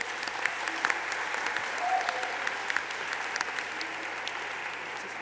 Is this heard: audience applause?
yes